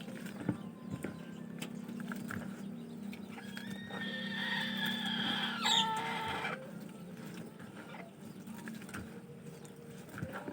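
Chickens clucking and calling among farmyard animals, with a short crow-like call rising near the middle over steady low background hum; no talking.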